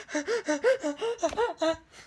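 A voice imitating heavy breathing and hyperventilating, a rapid series of about nine breathy gasps in a steady rhythm, close and fairly loud with no other sound.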